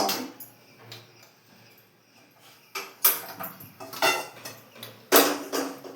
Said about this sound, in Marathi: कढई ठेवून घेऊ थोडं सुलो गॅसवर कढई ठेवून